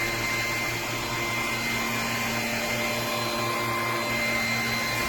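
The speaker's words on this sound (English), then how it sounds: "we'll see what this looks like when I turn the vacuum on and the light comes on" A BISSELL PowerClean 200W self-standing cordless vacuum with a tangle-free brush runs with a constant, loud motor whine and airflow hiss, unbroken and close, with no talk over it.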